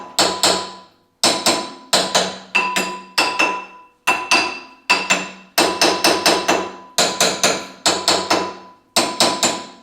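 Hammer striking a rusted, corroded front disc brake part on a 1993 Honda Civic DX, about fifteen sharp metallic blows in an uneven series with short pauses, loud and close, each hit ringing briefly.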